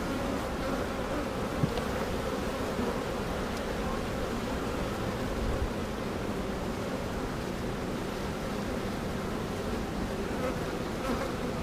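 A honeybee swarm newly housed in a ten-frame hive in Maysville, North Carolina, buzzes in a dense, steady drone that fills the whole stretch, close and constant with no voices.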